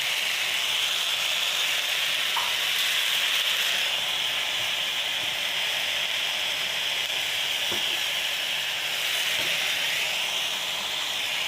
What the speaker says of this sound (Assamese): কণীটো ইয়াতে ঢালি দিলোঁ।